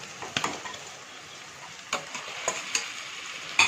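Mutton frying in tomato masala for a home-style Assamese curry, a close, steady sizzle broken by scattered scraping stirs of a spoon against the pan.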